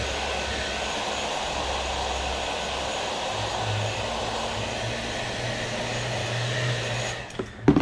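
A heat gun blows hot air onto the Monokote covering of an RC airplane, a loud, steady close-up whoosh with a low drone that holds evenly, then breaks into a brief clatter at the end.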